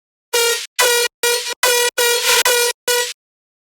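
A crunchy, metallic bass lead synth with sidechain pumping plays seven loud, buzzy, horn-like stabs in a choppy rhythm, each cut off sharply with silent gaps between, alone with no talking.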